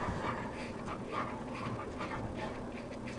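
A hound dog with long ears pants rapidly and whimpers close by while waiting for dinner, a continuous breathy rhythm with soft whining notes over about three seconds.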